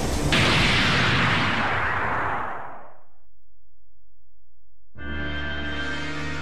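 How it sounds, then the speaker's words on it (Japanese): Nebula explosion attack in the PS3 game Saint Seiya Soldiers' Soul: a loud, roaring burst that rumbles and fades over about three seconds, followed by silence, then a sustained bright tonal swell of game effects. "爆発しろ、ネビュラよ。"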